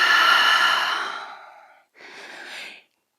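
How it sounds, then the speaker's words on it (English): Two breathy exhales through the mouth during a slow-flow yoga warmup: a long, loud, sighing out-breath fading over nearly two seconds, then a shorter, softer puff after a brief pause, close and alone. "And exhale through the mouth."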